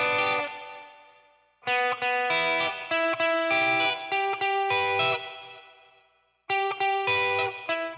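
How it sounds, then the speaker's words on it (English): Electric guitar run through a booster, two delays and reverb, playing bright sustained chords in two bursts with ringing echo tails that decay, loud and close with a brief spoken word. "Just the booster, the two delays, and the reverb."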